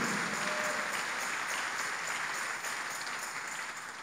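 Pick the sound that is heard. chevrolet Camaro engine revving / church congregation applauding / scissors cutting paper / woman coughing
church congregation applauding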